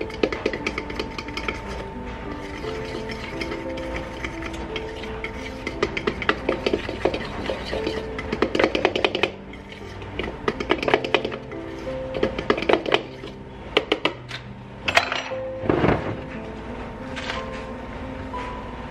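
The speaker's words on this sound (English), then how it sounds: "I'm just gonna mix this together here." Chocolate chunk cookie dough gets mixed in a bowl, a close, continuous run of scraping, knocking and clattering strokes that grows busier and louder toward the end.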